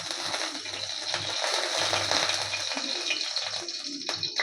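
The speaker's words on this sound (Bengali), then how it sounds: "এবার আমরা তেল দিয়ে দিচ্ছি।" Cooking oil pours into a pan for a traditional Bengali mung dal with jute leaves, a soft steady trickling splash close by with faint clinks throughout.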